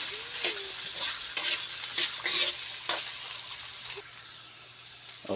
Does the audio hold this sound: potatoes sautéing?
yes